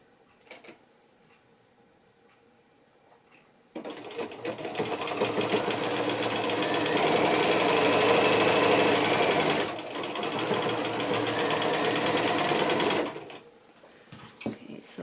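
A sewing machine stitches a paper-pieced quilt block in one continuous, close, loud whirring run of about nine seconds, with quiet handling before and after and no talking.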